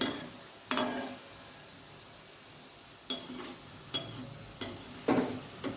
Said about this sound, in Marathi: हे गुलाबजामून तळून घ्यायचे बघा कसे फुलायला लागले